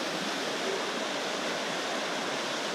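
Water of the Trevi Fountain in Rome rushes in a steady, dense wash of falling and splashing water, continuous and fairly close, with no voices over it.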